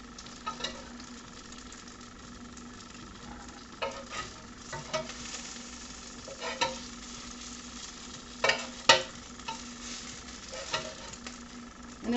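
Meatballs browning in a frying pan give a soft, steady sizzle with occasional scrapes and taps as they are stirred and turned, faint and close, without speech.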